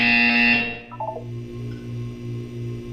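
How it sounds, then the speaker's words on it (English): A loud electronic buzzer from the video game Portal 2 sounds once, a harsh bright tone that cuts off after about half a second, followed by a low pulsing hum. "You will hear a buzzer."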